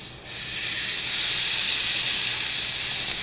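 Steak sizzles hard in a hot pan, a loud, continuous, bright hiss that swells just after it starts and holds steady throughout.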